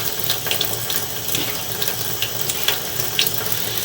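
Water runs steadily through an old cast iron drain pipe around a sewer inspection camera, a continuous close rushing wash with small gurgles and splashes and no voices.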